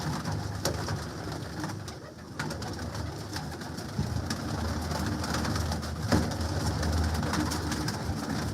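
Several pigeons in an open enclosure coo steadily and overlap in a low, throaty, continuous murmur, with occasional flutters and clicks mixed in.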